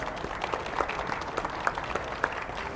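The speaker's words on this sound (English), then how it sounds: "Let's give him a big round of applause." An audience at a televised crop-management show welcomes a guest with applause, an even wash of clapping with individual sharper claps popping out now and then, held steady at moderate loudness.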